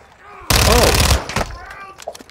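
A loud burst of rapid automatic gunfire in a video game erupts after a quiet moment and runs for under a second, followed by a few scattered shots and a brief shout.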